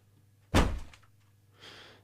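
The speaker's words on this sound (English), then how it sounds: "here we have this part here where the enemy hits the door" A layered door-hit sound effect for an enemy striking a door in Westworld: one heavy, hollow thump with a short decaying rumble, followed by a softer, breathy rustle a second later.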